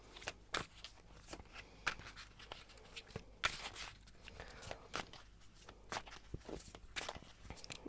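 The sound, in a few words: shuffling tarot cards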